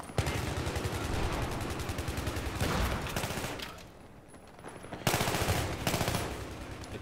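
Rapid gunfire from a Battlefield 3 close quarters team deathmatch, pistol and assault rifle shots crackling in dense bursts, a brief lull near the middle before loud automatic fire resumes.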